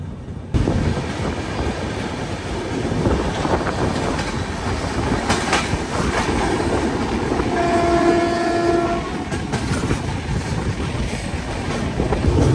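Passenger train between Visakhapatnam and Varanasi running steadily, a continuous close rumble of wheels and carriage with faint rattling; a short horn-like tone sounds partway through, no talking.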